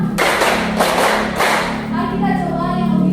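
A classroom of students claps five times together in a quick, uneven burst of sharp, close slaps, followed by a few voices murmuring in the room.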